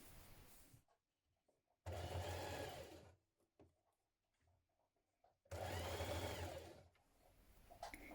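A sewing machine stitches a seam on a spring dress in two loud, steady runs of about a second and a half each, separated by quiet pauses with faint handling noises.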